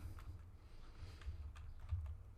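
Keys clatter on a computer keyboard as a Cisco networking command is typed, a quick run of light clicks close by with short pauses between bursts.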